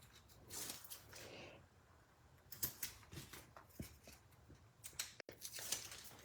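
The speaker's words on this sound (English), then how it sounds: "When I'm cutting big pieces like this, I find it's just easier with big scissors like this." Large scissors cutting a big sheet into strips at a crafting table: several crisp snipping and slicing strokes, close and quiet, spaced irregularly with short pauses between cuts and no talking.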